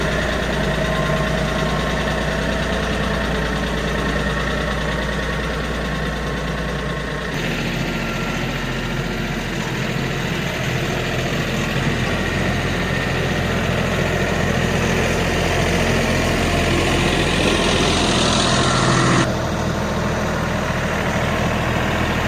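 A Kioti NX5510 tractor with a fuel problem, its diesel engine running steadily for the whole stretch: a loud, close, continuous rumble that shifts in tone a couple of times as the revs change.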